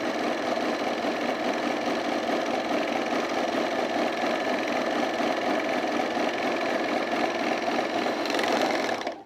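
A sewing machine runs steadily while stitching a seam on a pair of partner overalls, a continuous close whirring hum with no pauses, stopping abruptly at the end.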